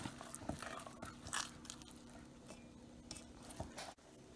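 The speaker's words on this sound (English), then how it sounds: "take your spoon again and give it a stir" A spoon stirs chocolate chips into muffin batter in a bowl, giving soft, irregular wet scrapes and thuds at close range, fairly quiet and alone.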